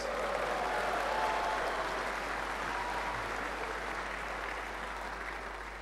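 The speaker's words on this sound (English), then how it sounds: "Clap your hands, all you great leaders." An audience at a leadership sermon in Fiji applauds, a dense, even wash of clapping that holds steady for several seconds and fades slightly at the end.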